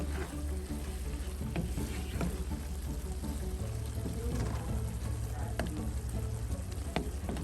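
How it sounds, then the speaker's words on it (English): Ground beef browning in a pot for a Kenyan-inspired dinner, giving a steady, dense sizzle with scattered stirring scrapes throughout and a low constant hum beneath, fairly close and continuous with no talking. "while the browning is happening with the beef"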